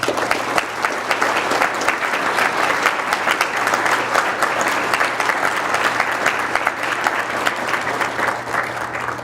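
Sustained audience applause for honored guests at a Days of Remembrance Holocaust commemoration, a loud, dense and even wall of clapping that continues steadily for about nine seconds without letting up.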